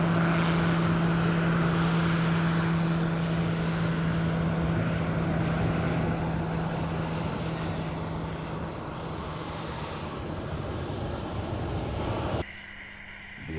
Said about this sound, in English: It was time for the A-29 Tucano to embark on a mission.